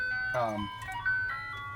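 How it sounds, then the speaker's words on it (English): An ice cream truck's tinkling jingle plays a clear, bright melody, rising and swelling briefly before continuing steadily, fairly close and loud over a low rumbling background. "you want ice cream from the ice cream truck?"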